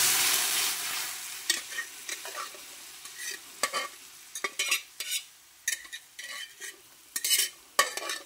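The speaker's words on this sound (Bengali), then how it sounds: "সেদ্ধ করা মটর ডালটা দিয়ে ভালো করে ফোড়নের সঙ্গে মিশিয়ে নেওয়া" Boiled matar dal stirred into a hot spice tempering of whole coriander and red chilli powder for ghugni, with a spoon scraping in irregular strokes and clinks over a soft steady sizzle.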